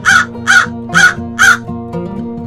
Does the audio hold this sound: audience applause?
no